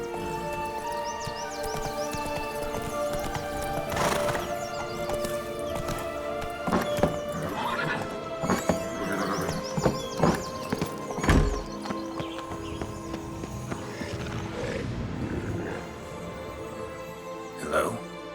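In the Witcher 3 video game, Geralt's horse Roach gallops with rhythmic hoof clip-clops and lets out neighs and whinnies, mixed with game music and spoken character dialogue.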